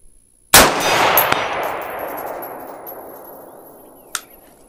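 A single loud rifle shot at a range cracks out and rolls away in a long echoing decay, followed several seconds later by a faint, distant ping from a steel target at 200 yards.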